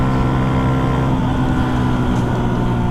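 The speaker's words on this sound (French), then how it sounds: "moto, moto." Steady, loud engine drone of a Yamaha MT125 motorcycle being ridden, a continuous hum with a low throbbing tone and wind rush, no voices over it.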